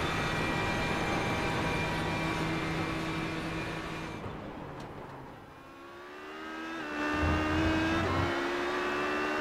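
A GTLM-class GT race car laps the Daytona road circuit in the iRacing sim. A steady, loud engine drone dips briefly, then climbs back with a shift in pitch as the car accelerates.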